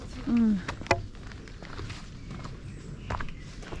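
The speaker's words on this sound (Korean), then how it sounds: "우리가 걸어가는 발자국 소리" Soft, muffled footsteps on yielding mountain ground, a few quiet steps with a brief birdlike chirp near the start.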